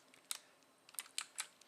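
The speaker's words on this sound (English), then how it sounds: "we gave a blind guy the keyboard" Sparse keystrokes on a computer keyboard: a handful of crisp, quiet clicks in an irregular rhythm, close to the microphone, alone without any speech.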